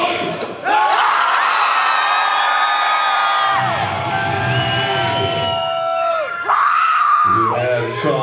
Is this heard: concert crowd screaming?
yes